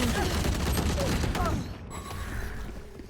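A video game weapon being reloaded: clicking, creaking mechanical clacks with busy game noise around them, fading after a second and a half into quieter background.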